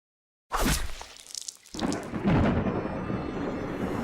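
A thunder effect for a Thunderwave spell in a tabletop fantasy game bursts in after silence with a loud crack, then rolls into a long sustained rumble like heavy rain and storm.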